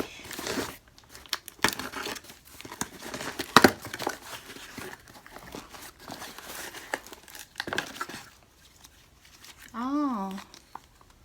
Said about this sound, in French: J'utilise toujours mon petit ciseau de manicure pour ouvrir le paquet.